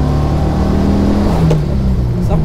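A Porsche 356 Speedster engine pulls steadily uphill, loud and close, with a low droning tone that shifts in pitch as it revs.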